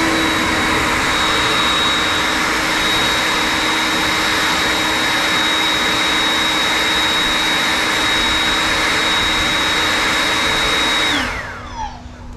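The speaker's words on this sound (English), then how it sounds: "So let's use the RYOBI maximum 190 miles per hour" A RYOBI 40V brushless Whisper Series battery jet-fan leaf blower runs at full speed with a loud, steady whooshing roar and high whine, then spins down as it is switched off near the end.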